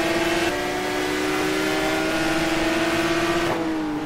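GT race cars, a Maserati and a Lamborghini, dueling on the Portimao circuit: a sustained engine drone holding a steady pitch with a slight shift midway, loud and continuous, no talking.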